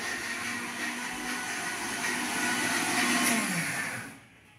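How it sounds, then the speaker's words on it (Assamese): A kitchen mixer grinder whirs steadily at close range, a continuous motor whine that holds for about four seconds before spinning down and cutting off. "মিক্সিত কি মাৰিছে"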